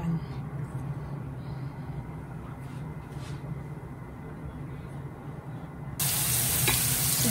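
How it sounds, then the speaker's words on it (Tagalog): Garlic and onion frying in a pan while fried rice is cooked, giving a steady close sizzle throughout that swells suddenly louder and brighter near the end as more food hits the hot oil. "Luto ko na po yung una po yung garlic guys, tapos yung onion."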